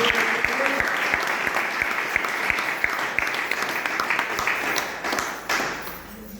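A church congregation bursts into loud, sustained applause, dense clapping with some rhythmic beats that continues for several seconds and fades slightly toward the end.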